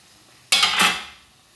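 A lid goes onto a pan of frying pork chop with a sudden clatter and a short metallic rattle, followed by a brief muffled sizzle that fades out within about a second.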